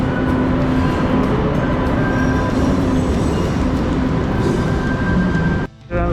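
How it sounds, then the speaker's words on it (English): Subway train running, a loud, continuous rumble and roar with faint tonal whines that holds steady, then briefly drops out near the end. "We decided that we had to try the subway at least one time"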